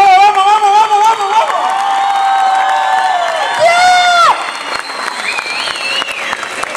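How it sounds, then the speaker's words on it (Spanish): A crowd at Cristina Hernández's fan event in Córdoba, Argentina, breaks into sustained applause with cheering and excited shouts and whoops, a loud, continuous wash of clapping and high voices lasting throughout. "un fuerte aplauso para Cristina"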